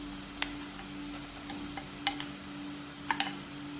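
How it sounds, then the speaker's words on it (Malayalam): Crushed garlic, ginger and green chili stir-fried with browned onion in a clay pot, giving a low steady sizzle with a few sharp scraping clicks of the spoon, close and without talk. "ഇതിനി ഇളക്കി വഴറ്റാം."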